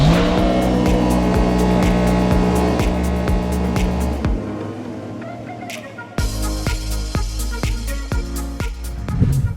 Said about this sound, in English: there's no outboard engine, which means it's a jet boat